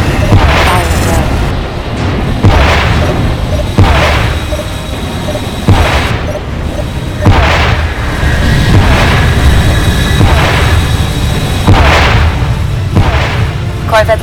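Portside ship gunnery in a space battle video game firing in a steady run of loud, booming shots and explosions roughly every couple of seconds over a dense rumbling battle bed.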